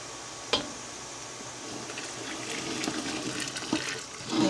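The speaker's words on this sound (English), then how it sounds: "that's why I keep this other clean boiling water on hand" Boiling water pours into a pot while blueberries are being canned, a steady liquid splashing and trickling with a few brief clinks near the start and end, close and fairly quiet.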